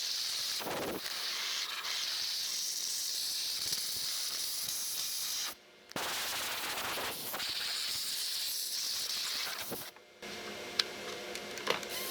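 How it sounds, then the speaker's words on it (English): Compressed air hisses loudly and close while leaves and debris are blown out of the spark plug area of a 2006–2007 Kia Rondo engine, running in long continuous bursts with two brief pauses. "We're going to blow this stuff out of here so it doesn't fall down in the spark plug holes."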